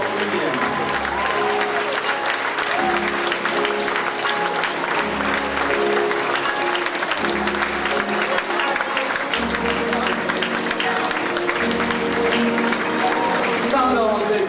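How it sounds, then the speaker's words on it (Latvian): Applause for a couple, runner-up Miss and Mister at the Miss and Mister Balvi 2004 pageant, with steady crowd clapping running the full length over loud background music with a pulsing beat. "aplausu viņiem"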